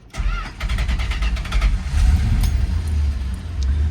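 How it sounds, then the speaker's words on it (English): A 1963 Chrysler Imperial LeBaron hardtop with a 413 cubic inch V8: the distinctive Chrysler starter whirs briefly, then the engine catches and settles into a steady, deep idle, close up with no talking. "That iconic Chrysler starter you heard as the car started."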